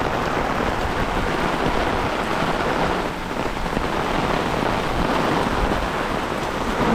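Heavy downpour in a Korean city, a steady dense roar of rain falling on surfaces, loud and unbroken throughout with no voices.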